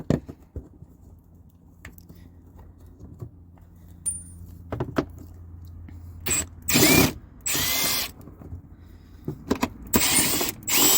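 Ratchet on a 7mm socket working air filter housing bolts on an Alfa Romeo Giulietta: quiet metallic clicks and clinks at first, then several loud, rapid bursts of ratcheting, close by and without talk.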